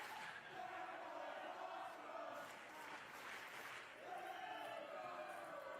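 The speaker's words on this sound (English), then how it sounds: "Are they saying that was awesome?" A wrestling crowd at a Royalty Wrestling Masquerade Brawl show chants in unison, distant and faint, with a rhythmic rise and fall of many voices under a general hall murmur.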